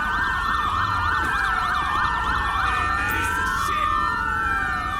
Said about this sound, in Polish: Jadą karetki.